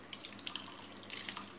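Water squeezed by hand out of grated bottle gourd, trickling and dripping into a bowl in a kitchen; faint, uneven splashes and dribbles, with a brief louder burst toward the end.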